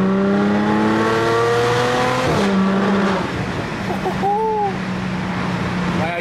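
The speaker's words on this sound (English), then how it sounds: "So like now I'm in M4, let me downshift to like third and then give it a little hit" An Audi S4 downshifts with the paddle shifter and accelerates, its engine note dropping sharply at the shift, then revving up again with a rising whine, while someone talks over it.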